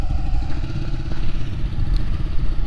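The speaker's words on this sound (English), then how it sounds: "He about to run the Ducati now." Ducati motorcycle engine droning steadily in a street race against a big-turbo BMW 340i, a dense low mechanical roar with clattery texture, heard from a distance rather than close, no voices.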